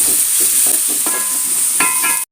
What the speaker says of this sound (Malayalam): ഒരു സവാള പൊടിയായി അരിഞ്ഞതും ഇട്ട് കൊടുക്കുന്നുണ്ട്. നല്ലോണം ഒന്ന് നമുക്കതൊന്ന് വാട്ടിയെടുക്കാം.